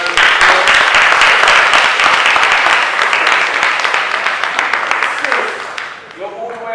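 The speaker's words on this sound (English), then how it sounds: "Can we give our sister a round of applause?" A dense round of audience applause at a talk: loud, full clapping that fills the first five seconds, then thins and fades away toward the end.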